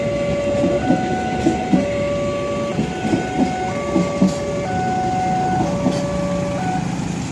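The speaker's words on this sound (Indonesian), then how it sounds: "kereta api parsel dengan rute Bandung, Surabaya. Ditarik oleh CC 206 1331." A parcel train hauled by a CC 206 diesel locomotive rumbles past nearby with rhythmic clickety-clack beats from the wheels, while a series of steady tones sounds over the heavy rolling noise.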